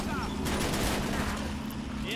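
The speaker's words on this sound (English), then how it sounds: "Looks like an AT gun is trying to fire." An anti-tank gun firing in a World War II Stalingrad battle in the game Men of War: Assault, a dense burst of rapid gunfire and explosions, loud and continuous amid battle noise.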